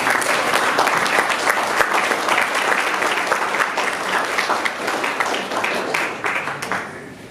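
A banquet audience claps steadily at a Silver Sage 50th anniversary celebration, dense and sustained applause from a crowd that fades slightly at the end.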